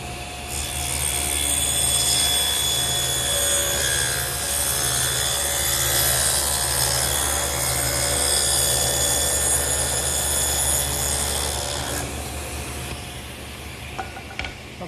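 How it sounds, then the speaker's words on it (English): A power saw cuts a long groove along wooden pieces for a blanket chest top. It makes a loud, steady whining roar with a woody rasp for about twelve seconds, then winds down into quieter shop noise. "I'm going to take these two pieces here and run a groove all the way up, stopping about 1/4 of an inch from the edge."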